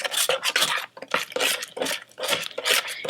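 Homemade play dough being stirred in a cooking pot, a close, rhythmic scraping and rasping of the spoon through thick dough in repeated strokes with brief pauses between them.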